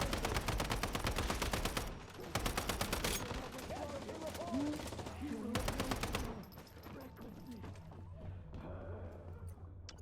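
Rapid bursts of shotgun fire in the survival shooter Once Human, loud dense volleys in several clusters with short gaps, fading to quieter background game noise at the end; no voices present.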